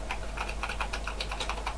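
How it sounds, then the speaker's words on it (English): Keys pressed in rapid, irregular succession on an old Wren Executive computer keyboard, a steady run of close, crisp clicks over a low constant hum. "pressing keys doesn't seem to do a great deal"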